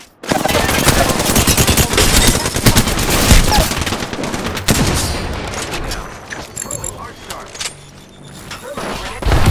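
Dense, loud automatic gunfire in a battle royale video game, sustained volleys and scattered shots with booms, easing toward the end before a final loud burst, with voices mixed in.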